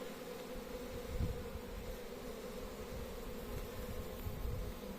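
A steady swarm of bees drones continuously outside a hive, a dense buzzing hum close by, with no voices.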